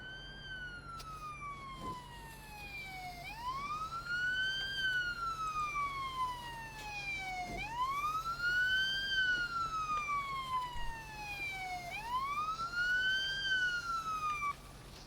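A video game ambulance siren in Police Simulator: Patrol Officers wails, rising and falling in long repeated sweeps, loud and steady over a low engine hum, with no talking.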